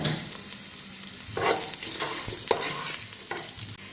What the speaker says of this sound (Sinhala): ඉතින් ලුණු ටික දාගෙන ලුණු ටික යාන්තමින් රන්වන් පාට වෙනකල් ටිකක් වැදෙන්න ආරිනවා